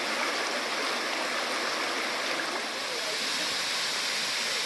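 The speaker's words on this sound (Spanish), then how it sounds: "El velo de la novia es una cascada natural con una forma peculiar a la que debe su nombre" El Velo de la Novia, a natural waterfall near Atocha, Bolivia, roars in a steady, dense broadband rush of falling water that stays loud and unbroken throughout, with no voices.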